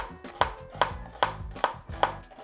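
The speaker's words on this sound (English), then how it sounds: "You don't want to cut the onion like this, you want to cut the onion like this" Knife chopping an onion on a cutting board, six crisp, evenly spaced strikes in a steady rhythm, close up with no talking.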